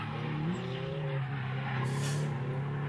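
A drift car at Mineral Wells e-brakes into a corner, its tires squealing in a rising, wavering whine over a loud, steady engine roar.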